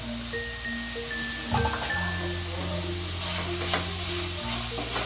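Tomatoes sizzling in a pan while being sautéed for mushroom biryani, a steady frying hiss with a few stirring clatters, partly masked by background music with sustained tones.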